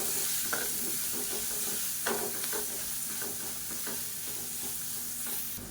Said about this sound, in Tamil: தேங்காய் கொத்தமல்லி பேஸ்ட்டு சேர்த்துட்டு நல்லா ஒரு ரெண்டு பரட்டு பரட்டி விட்டுக்கலாம்